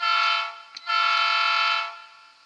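Model train locomotive horn from a DCC sound decoder, sounding as one loud sustained blast with a brief break near the start, then fading out alone.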